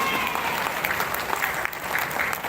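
A school graduation crowd applauds for the principal, with continuous, fairly dense clapping from many hands throughout the short stretch at a moderate, steady level.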